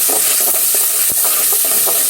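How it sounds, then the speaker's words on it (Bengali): Ginger-garlic paste is stirred into onions frying in a pan for a curry: rhythmic scraping strokes of a spoon repeat about every quarter second over a steady, close hiss of sizzling oil, with no voices. "পেঁয়াজের সঙ্গে আদা রসুন বাটা একসঙ্গে ভালোভাবে মিশিয়ে নেই।"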